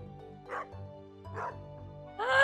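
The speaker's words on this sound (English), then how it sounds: "You see this dog here?" A dog in the farming video game Stardew Valley gives three short, soft yips or barks at even intervals over steady game background music, the last one slightly louder.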